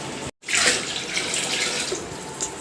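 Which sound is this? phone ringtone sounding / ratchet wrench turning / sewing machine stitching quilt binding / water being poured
water being poured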